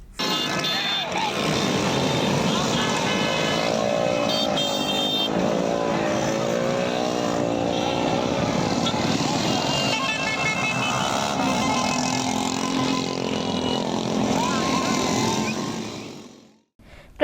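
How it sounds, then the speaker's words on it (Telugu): Many motorcycles and other vehicles pass along a main road in a large party bike rally, making a dense, loud, continuous engine roar with horns sounding through it and a voice speaking over the noise. "పవన్ కళ్యాణ్ అభిమానులు, జనసేన పార్టీ నాయకులు, కార్యకర్తలు భారీ బైక్ ర్యాలీ నిర్వహించారు"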